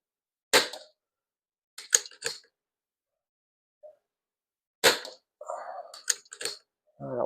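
A Victory CP2 PCP air pistol fires several sharp, close cracks spaced a second or more apart, with brief clicks between shots and near-silence around them.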